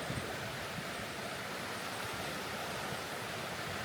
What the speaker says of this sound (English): Before we see the river, we hear it, a whisper, a murmur, a soft breathing against the stones.